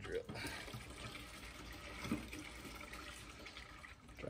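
Antifreeze drains from the radiator of a 2003-2009 fourth-generation Toyota 4Runner into a catch pan, a steady, fairly quiet trickle and splash of liquid that runs continuously with faint background noise.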